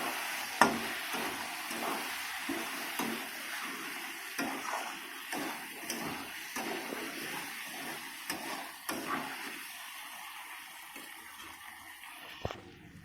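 Flat beans and potatoes fry in a pan with a soft, continuous sizzle, broken by regular scraping stir strokes and occasional light clinks of the utensil against the pan.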